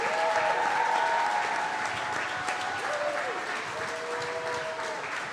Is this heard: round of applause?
yes